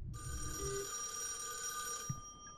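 A telephone rings in a horror video game, one long continuous electronic ring lasting about two seconds, fairly quiet and heard alone without speech.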